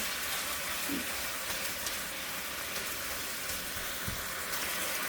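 Marinated sirloin tip beef sizzles in a pan, a steady hissing fry that stays even throughout, moderately quiet, with a couple of faint stirring knocks and no speech.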